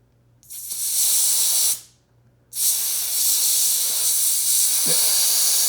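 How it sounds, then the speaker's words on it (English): Air hisses loudly from a Triumph Scrambler 400 X motorcycle tire in two long bursts, separated by a brief pause, with no talking. "And then I'm going to let the air out of the tire."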